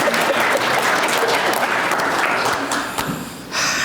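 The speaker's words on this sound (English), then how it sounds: "we have to give Secretary Riston another round of applause" An audience at an alumni awards dinner claps in a dense, steady round of applause, loud and close, tapering slightly before a final swell.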